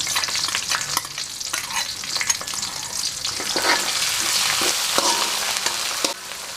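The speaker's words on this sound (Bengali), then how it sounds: "আদা দিয়ে দিলাম, রসুন দিয়ে দিলাম। এখন মশলাগুলো দিয়ে দিচ্ছি।" Ginger, garlic and ground spices, cumin and chili powder, frying in oil as they are stirred in a pan, a dense continuous crackling sizzle broken by repeated spatula scrapes, close and with no voices.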